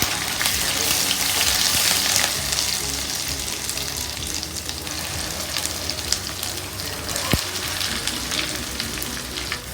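Curry leaves and ground beetroot chutney frying in hot oil give a loud, steady sizzle and crackle throughout, with a sharp pop or stir sound near the end.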